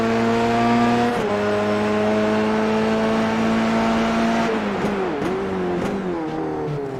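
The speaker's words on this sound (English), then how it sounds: "Tija, though, wants it back, and now it's a 3-car battle for P3 for the 3rd step of the podium" Race cars battling for position at a Volkswagen Motorsport India circuit, engines howling loud and close with steady high revs, then a gearshift dip and shifting pitch as the cars jostle through corners.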